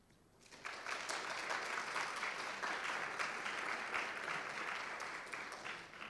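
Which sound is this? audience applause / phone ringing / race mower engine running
audience applause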